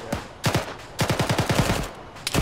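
Ammunition cooking off in ArmA 3: loud, close bursts of rapid cracking pops in quick irregular clusters with brief gaps between them, and no voices.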